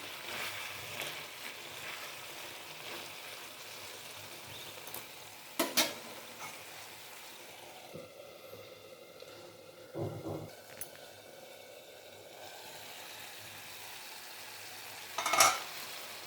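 Eggplant and ridge gourd curry sizzles softly in a pan, a steady low frying hiss broken by a few brief stirring clinks and scrapes, with no talking.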